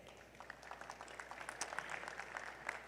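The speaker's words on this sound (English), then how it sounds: "Round of applause, please." Light, scattered clapping from a small group at an awards gala, fairly quiet and steady throughout without cheering.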